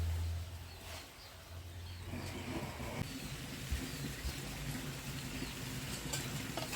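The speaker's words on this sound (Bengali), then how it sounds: "মাংসটা ভালো করে কষিয়ে চাপা দিয়ে দিই।" Chicken meat with skin being fried and stirred with spices in a pan, giving a soft steady sizzle with occasional scraping. It is quiet, close and continuous, with a low hum in the first two seconds.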